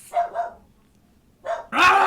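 A dog barks twice close by, pauses, then lets out two more loud barks, breaking into a home recording session.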